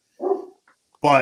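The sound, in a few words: big black Labrador-Alsatian cross dog barking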